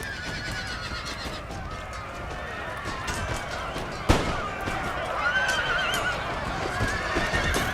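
Horses neigh and gallop with drumming hoofbeats in the Empire: Total War battle game, mixed with scattered gunfire pops and a talking voice over a dense, busy battlefield din.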